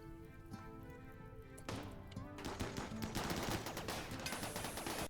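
Gunfire strikes colonists in RimWorld, a quiet clatter of rapid game shots with rain-like crackle building after the first two seconds, dense and continuous at low level without talk.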